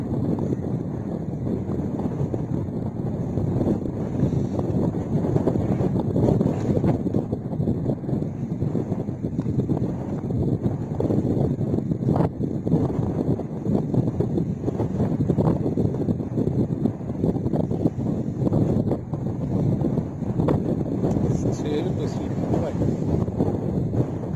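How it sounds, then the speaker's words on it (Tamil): Strong gusty wind at Muttom rumbles and buffets the microphone in low, uneven bursts throughout, with a voice talking intermittently over it. "திடீர்னு காத்து ரொம்ப வேகமா அடிக்குது"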